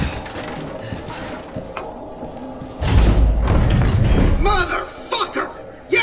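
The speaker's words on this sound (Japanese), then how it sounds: "爆発します。" A sudden heavy blast in the video game Resident Evil 7 hits with a deep booming thud partway through, then rumbles on under continuing game noise and a voice talking.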